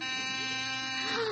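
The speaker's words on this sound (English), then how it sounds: "That's the door buzzer." A sustained electric door buzzer in a 1947 radio comedy show drones with a steady harmonic tone, fairly close, with a voice briefly overlapping near the end.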